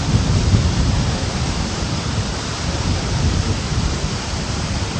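Floodwater pours over the Oluvil Athiyadi anicut in a continuous, loud broadband roar, a steady rushing wash with no pauses, close and unbroken throughout.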